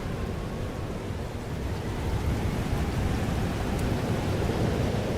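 Steady, dense roar of a thunderstorm with heavy rain from Life is Strange Double Exposure, a continuous broadband wash with no distinct thunderclap, unchanging in loudness throughout.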